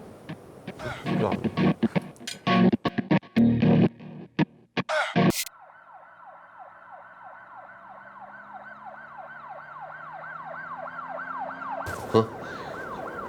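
A phone ringtone mimicking a wailing ambulance siren plays steadily and fairly loud for several seconds, after a stretch of choppy talk and clatter that stops abruptly before the siren starts.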